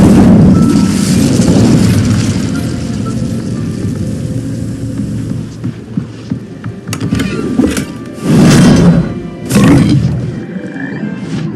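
An Incendio fire spell blasting in Hogwarts Legacy, a loud roaring whoosh of flame that surges, fades, then flares again in two short bursts near the end, with no talk.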